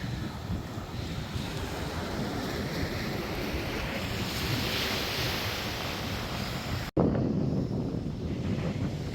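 Ocean surf rolls steadily onto a beach at Cape Lookout with strong wind buffeting the microphone, a continuous loud wash that briefly cuts out and returns with heavier wind gusts.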